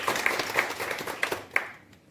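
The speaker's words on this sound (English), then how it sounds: "I think that deserves a round of applause." A small audience at a corporate results presentation gives a brief round of applause, with a few sharp, distinct claps standing out over a soft wash of hands that fades within two seconds.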